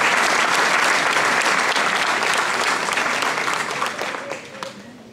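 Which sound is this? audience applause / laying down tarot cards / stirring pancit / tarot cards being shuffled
audience applause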